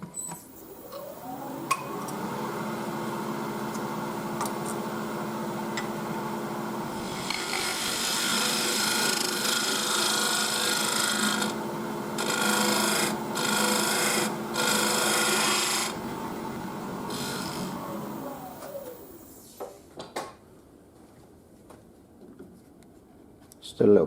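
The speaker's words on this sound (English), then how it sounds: "It's just about sticking a bit of wood on the lathe and having fun and creating something different." A parting tool cuts wood spinning on a lathe, a steady scraping, rasping hiss over the motor's constant hum that swells in the middle of the cut and stops abruptly near the end.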